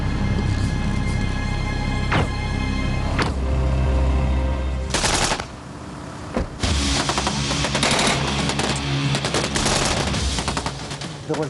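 Machine gun fire in a covert military operation, long sustained bursts of loud rapid automatic shots that roll on almost without pause, with a brief lull midway before heavy firing resumes.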